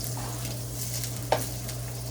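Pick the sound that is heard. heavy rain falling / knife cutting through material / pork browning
pork browning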